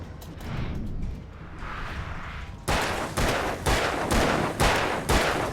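Gunfire in the video game Alan Wake: after a stretch of background rumble, a run of about six loud, sharp shots rings out at a steady, slightly uneven pace, each with a short ringing tail.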